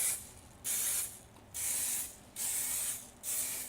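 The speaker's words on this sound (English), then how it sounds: "So I'll just shake this up, and I will just spray this." Pantene Air Spray alcohol-free hairspray sprayed from a shaken can in four distinct hissing bursts of about half a second each, evenly spaced with short quiet gaps between them, close to the microphone and alone.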